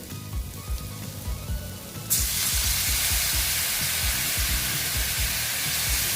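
Ash gourd frying with turmeric in a pan; after about two seconds, water hits the hot pan and a sudden loud, steady hiss of sizzling takes over and continues close and unbroken to the end.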